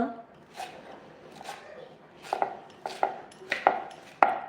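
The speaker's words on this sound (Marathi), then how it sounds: "आता बारीक कोथिंबीर चिरून घेते मी मस्त" A knife finely chops fresh coriander on a board, a series of sharp taps that speed up toward the end, with someone speaking over the cutting.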